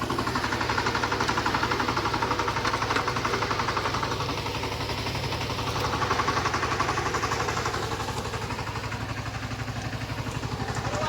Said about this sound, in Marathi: कसं वाटतं ट्रॅक्टर चालवतं ना?